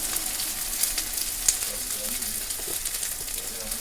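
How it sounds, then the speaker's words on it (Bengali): Salt, turmeric and spices sizzle steadily in oil in a pan for a fish curry with pointed gourd as they are stirred, a constant close frying hiss with a couple of faint utensil taps. "দিয়ে আমি ভালো করে নাড়াচাড়া করে নিচ্ছি"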